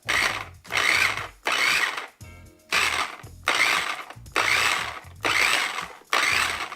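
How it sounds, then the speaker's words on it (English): A container with its lid on is shaken hard to mix aloe vera gel for a hair mask, giving a series of loud rattling bursts in a steady rhythm with brief pauses between, close up. "now we're going to put on the top and mix it all up"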